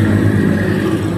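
A Renault Kiger turbo manual car's engine drones steadily from inside the cabin, a loud, low, constant hum with no one talking.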